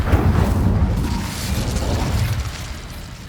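A whooshing, roaring burst of magical fire from an Incendio spell in the Hogwarts Legacy video game, loud and sustained with a deep rumbling low end that slowly fades over a few seconds.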